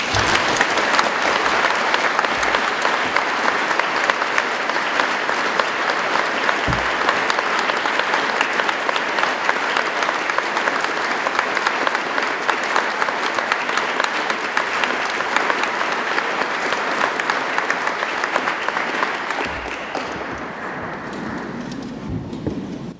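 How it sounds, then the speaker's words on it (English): Large audience applauds graduates at an Open University degree ceremony in Exeter, a steady, dense wall of clapping lasting about twenty seconds before thinning out toward the end. "let's start today's ceremony by giving all of our amazing graduates a big round of applause."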